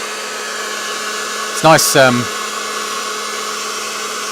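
A heat tool running on its low setting, blowing across freshly painted artwork for a pinball build, gives a steady hairdryer-like whirr throughout, with a brief spoken remark over it midway.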